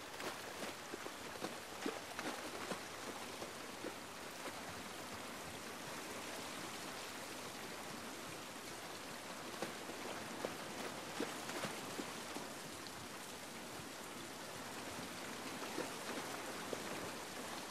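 Steady rain falls outdoors in The Last of Us Part I, a dense, even patter of drops on surfaces that runs continuously at moderate volume with no voices.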